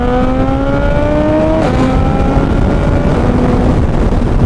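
Suzuki Hayabusa fitted with a Brocks carbon exhaust, heard up close as a loud, sustained engine note that climbs in pitch, dips sharply, then holds steady under a constant roar.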